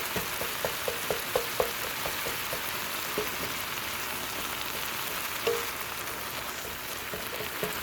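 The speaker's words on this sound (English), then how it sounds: "Our sausage is almost done. It's turned from a pink color to a brown." Turkey sausage frying in a pan, a steady crackling sizzle with a run of small sharp pops early on and occasional louder spits.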